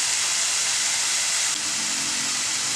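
A broad, steady hiss of onion, ginger and chicken stuffing sautéing in a hot pan, loud and continuous, holding at a constant level for the whole stretch with no talk over it.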